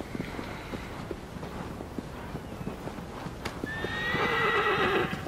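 Horse in the Shadow of the Colossus video game galloping with a steady clip-clop of hooves, close and continuous, then a loud neigh and whinny near the end over a soft wind-like backdrop.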